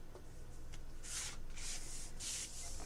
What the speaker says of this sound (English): burnishing with our fingers at this point